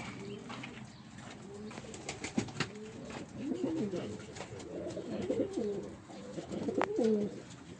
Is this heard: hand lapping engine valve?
no